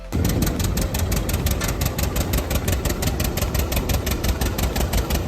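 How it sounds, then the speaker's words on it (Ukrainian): An old tractor engine runs steadily up close, loud with a rhythmic low chugging throbbing underneath; no voices. "ви побачите, як старі мотори знову оживають"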